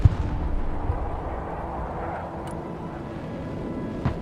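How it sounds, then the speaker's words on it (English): Artillery fire in the video game Broken Arrow booms out as a sharp blast, then a sustained rumbling roar of distant shelling and battle noise, with a second thump near the end. "Close air support inbound. Whoop, artillery."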